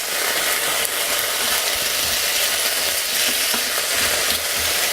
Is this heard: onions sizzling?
yes